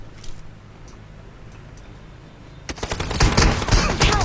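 Gunfire in a squad battle video game, a few scattered distant shots followed by a sudden loud close burst of rapid automatic fire that keeps going to the end.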